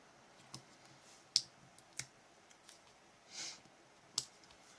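A paper letter J being cut into an I for a scrapbook layout, a few sharp, quiet scissor snips and clicks spaced irregularly, close by, with one softer rustle between them.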